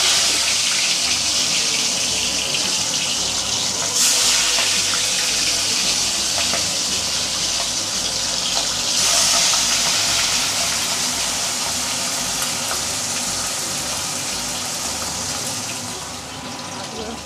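Fish sizzles and spits in hot oil for a Bengali fish curry, a steady broadband frying hiss running throughout with brief louder surges, close and continuous.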